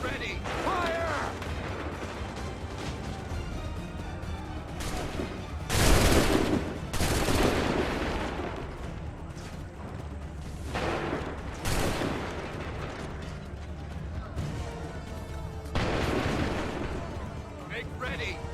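Musket volleys fired on command in Assassin's Creed III crack out as several loud, broad bursts spaced a few seconds apart, over a dense battlefield din with voices shouting throughout.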